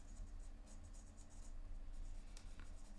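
A pencil scratches and glides across paper in soft, continuous strokes, close and faint over a low background hum.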